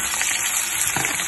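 Whole dried chillies and a little onion frying in hot oil for a kari tempering, a steady close sizzle with soft crackle and no talk over it.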